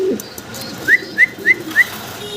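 A fancy cream-bar Holi Copper pigeon gives four short, rising whistly calls, evenly spaced and close by, over a quiet background.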